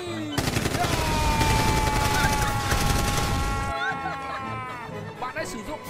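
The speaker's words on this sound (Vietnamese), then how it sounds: "bắn con quái đi." Rapid gunfire in a video game battle against giant flesh-eating plant monsters sounds as a dense, loud fusillade of shots for several seconds, then cuts off, leaving tonal game sounds.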